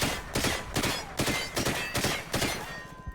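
Rapid bursts of automatic fire from the Atlas MK27 assault rifle in a Call of Duty shooter, loud and close, with repeated crackling volleys in an even rhythm and no talk.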